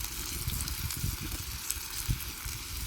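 Steak searing on hot edible crystals used as a cooking stone, giving a steady close sizzle and hiss with small crackling pops throughout.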